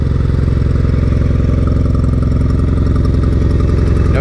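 A small Honda Nighthawk motorcycle converted to a cafe racer idles steadily up close without choke, a loud, even, low chugging with a rapid regular pulse and no speech.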